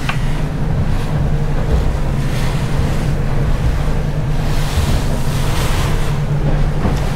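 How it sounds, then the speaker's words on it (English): Strong wind of about 25 knots from the east blows against the microphone while a boat trawls for Spanish mackerel in rough sea, with waves crashing and a continuous, loud, steady wash and rumble throughout. "it is blowing about 25 knots from the east"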